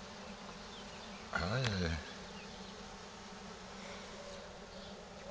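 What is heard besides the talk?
honeybee swarm buzzing during hive transfer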